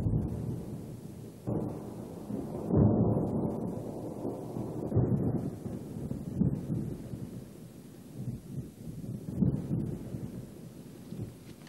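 Thunder rolls through a violent thunderstorm in a dangerous high-mountain region, with several deep rumbles swelling and fading at a distance over a soft background hiss.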